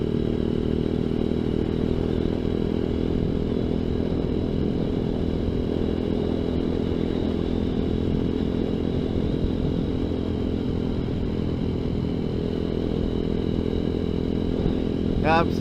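A ZS190 Grom clone motorcycle cruising at steady speed, its engine droning continuously with a low, even hum and constant wind and road noise throughout, no sharp revs standing out.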